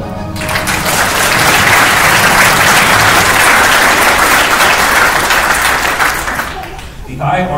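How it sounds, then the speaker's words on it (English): Loud crowd applause for an honor graduate at an Army field artillery battalion ceremony, a thick continuous roar of clapping that builds quickly, holds steady, then tapers, with a voice briefly heard at the end. "Please join me in a round of applause for the honor graduate."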